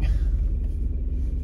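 Car on the road toward Québec, a dense low rumble of engine and tyres heard from inside, steady and fairly loud throughout the short stretch.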